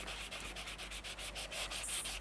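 Rhythmic, scratchy back-and-forth sanding with a block, quick regular strokes, close and fairly quiet, with no voices.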